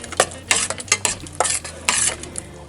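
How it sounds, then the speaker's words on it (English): Peach jam with Sure-Jell being stirred in a pot on the stove, a spoon scraping and sloshing in quick irregular strokes over a soft bubbling sizzle, close up and without speech. "Here's the Sure Gel. Stir it in."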